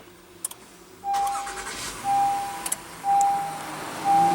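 Brief mechanical clicks, then the 3.5-liter V6 of a 2016 Honda Pilot SUV catching softly and idling, with a steady electronic chime pulsing about once per second throughout.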